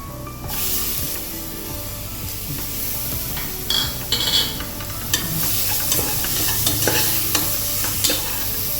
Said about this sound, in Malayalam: മസാലയൊക്കെ മൂത്തിട്ടുണ്ട് നമുക്ക് തക്കാളി ഇട്ട് കൊടുക്കാം